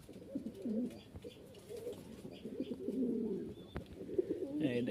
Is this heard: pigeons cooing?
yes